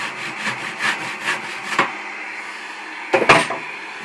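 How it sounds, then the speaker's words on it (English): A hand saw cuts through the base of a wood-turned snowman Christmas ornament in rhythmic back-and-forth strokes, then stops; after a short pause come a few knocks and a scrape of handling. "just use a hand saw"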